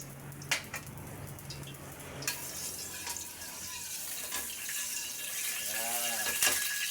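Garlic sizzling as it drops into hot cooking oil in a home kitchen, a steady soft crackling hiss that builds and persists, with brief clinks of utensils and faint voices now and then.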